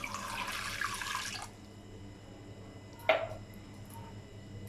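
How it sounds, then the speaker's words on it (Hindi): Half a glass of water pours into mutton in a pressure cooker, a close, steady splashing stream lasting about a second and a half, then quiet before a brief sharp splash or clatter. "पानी डालेंगे आधा गिलास"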